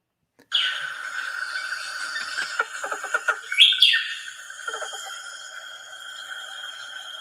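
Layered bird song, high bright chirps and whistles, blended with close-up croaks of a giant toad; a busy, continuous mix with a cluster of louder pulses near the middle and no voices.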